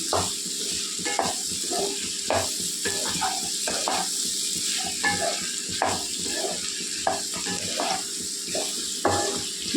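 Ivy gourd and onion curry frying in a pan gives a moderate sizzle, with a spoon stirring in regular, rhythmic scrapes and taps close up. No talking.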